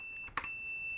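A multimeter's continuity beeper sounds one steady, unbroken high tone while testing an automotive fuse through a resistance, with a brief clicking contact noise partway through and no voices.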